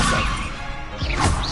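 A Levioso levitation spell cast in the Hogwarts Legacy video game, a short whooshing magical burst with a crashing impact, loud and close, lasting about a second and a half.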